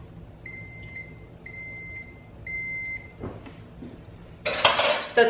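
A coffee maker brewing flavored coffee gives three evenly spaced, clear electronic beeps, followed by faint clinks and a louder hissing, splashing rush near the end.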